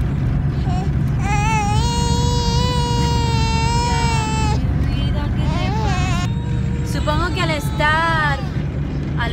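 A small girl in a car seat inside a new car cries and whines in long wavering wails, close and loud over the steady hum of the moving vehicle, with pauses between bursts.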